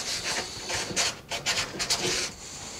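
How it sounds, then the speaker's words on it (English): A small sanding pad rubs along the edges of a wooden speaker cabinet in a series of short, close, raspy strokes with brief pauses between them, with no talking. "I'll take a little sanding pad here and just kind of knock the edges off a little bit."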